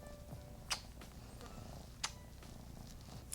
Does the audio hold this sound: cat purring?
yes